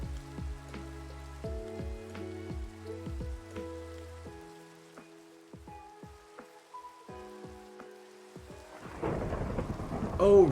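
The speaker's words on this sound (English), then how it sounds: "Oh, right, it's a thunderstorm" A Minecraft thunderstorm, with rain hissing steadily behind game music and a loud crackling burst of thunder near the end.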